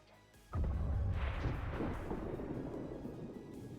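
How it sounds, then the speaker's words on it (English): A plasma blaster fires in XCOM 2 Long War of the Chosen, bursting in suddenly as a loud, deep boom that rolls on as a long rumbling roar and slowly fades without dying out. "That is a plasma blaster."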